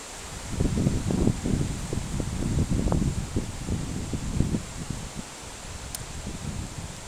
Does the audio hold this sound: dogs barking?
no